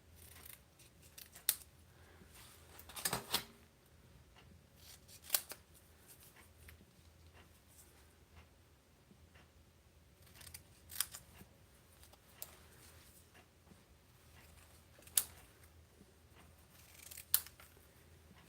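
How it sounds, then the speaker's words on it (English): Scissors snip paper pieces for a scrapbook spread, with sparse, sharp cuts scattered across a quiet room every few seconds and a short cluster of snips near the start. "And this one we could cut in half, so there's half on each page of the spread."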